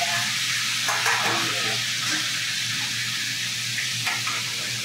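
Chicken fried steak frying in hot oil kept at about 350 degrees: a steady, dense sizzle close up with occasional scraping stir sounds, and no talking.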